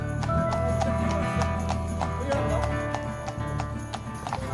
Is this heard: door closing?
no